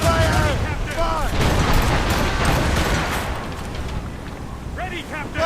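Naval cannons from Assassin's Creed Rogue boom and rumble in a dense, continuous barrage, with a voice shouting over the gunfire throughout.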